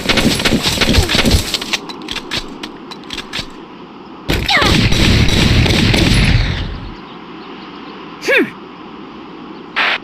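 Bursts of gunfire from the video game Valkyria Chronicles, loud rapid volleys at the start and again mid-clip, then quieter single reports over a steady battlefield background.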